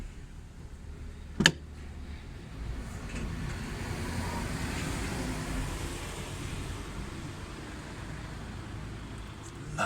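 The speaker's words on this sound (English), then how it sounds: "Loads of cars going by." Cars pass by on a nearby road as a steady broadband rush that swells and fades over several seconds, joined by one sharp click near the start.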